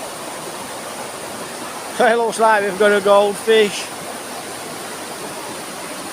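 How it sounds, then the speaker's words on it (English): Kawaka Falls in the Philippines roaring as a steady, broad rush of falling water, loud and continuous, with a voice speaking briefly over it in the middle. "I think it's called Kawaka Falls"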